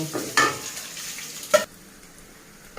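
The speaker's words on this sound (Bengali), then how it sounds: "পেঁয়াজগুলো একটু লাল করে ভেজে নেব।" Onions frying with bay leaf, cardamom and cinnamon in a pan for a vegetarian curry, a steady soft sizzle broken by two sharp scraping stirs, close by with no voices.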